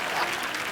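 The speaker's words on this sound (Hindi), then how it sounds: "जोरदार तालियां।" A short burst of loud, dense audience applause from a crowd at a televised comedy show, many hands clapping together at steady volume.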